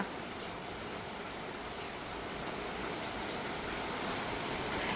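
Steady rain falls continuously, a dense even hiss of drops spattering on surfaces nearby, with no voices.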